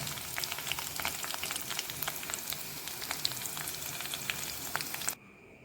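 Erissery kuttu ingredients sizzle and crackle in hot oil while frying until brown, a steady dense hiss with scattered pops that stops abruptly near the end.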